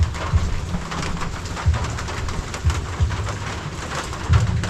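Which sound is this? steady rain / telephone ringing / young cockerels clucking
steady rain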